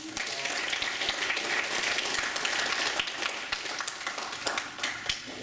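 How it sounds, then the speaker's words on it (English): An audience at a Black History Month event on a college campus claps for a guest speaker, brisk, lively applause with individual sharp claps standing out, steady throughout and free of talk. "give Dr. Wally a hand clap"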